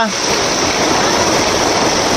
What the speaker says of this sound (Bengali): তো আজকে অনেক দিন পরে বৃষ্টি হলো, খুব ভালো লাগছে বৃষ্টির মধ্যে।